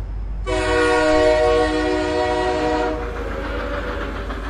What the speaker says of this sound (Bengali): ঘণ্টা দিল, ট্রেন ছাড়বার সময় হলো বোধহয়।